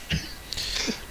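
A woman lets out a short, muffled sneeze nearby, a quick breathy burst followed by a faint throaty sound in an otherwise quiet room.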